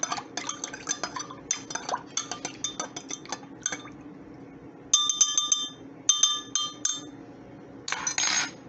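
Yeast, water and olive oil mixture stirred in a glass, a spoon clinking steadily against the sides in quick light taps, with a few louder rattling clinks near the end in a quiet kitchen.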